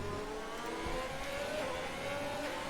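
A Ferrari Formula 1 car accelerates in a racing video game at the Bahrain Grand Prix, its engine whine climbing steadily in pitch over constant loud track noise.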